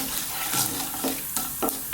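Dried chilli, cumin and black mustard seeds crackle in hot oil: a steady sizzle carries a few sharp, brief pops scattered across the moment, close and moderately loud, with no voices.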